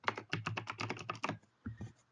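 Quick, close keystrokes on a computer keyboard as a file name is typed, a fast irregular burst of clicks followed by a short pause and a few final taps.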